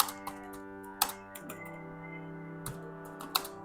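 Keys clacking on a computer keyboard while a Python comment is typed, with scattered sharp taps and short bursts over a steady low hum.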